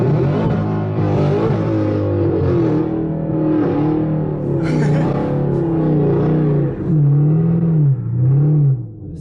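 A 700+ hp Camaro ZL1 revs hard with traction control off, its engine rising and falling as the wheels spin on ice and snow, loud and close throughout with a few pitch swings.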